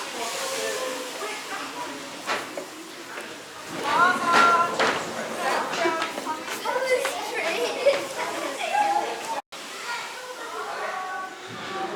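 A school trip group of children chatter and shout as they pass nearby at an industrial heritage site, a busy jumble of young voices over a steady steam-engine hiss.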